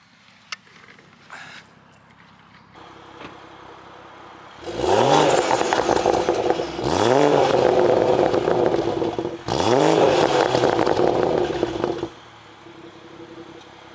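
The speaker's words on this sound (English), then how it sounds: "Now that the valves are open, now that the car's warmed up, I will give you some revs of what that sounds like" BMW 340i fitted with a Valvetronic axle-back exhaust, valves open and engine warm, idling and then rising into three loud, sharp revs in a row before settling back.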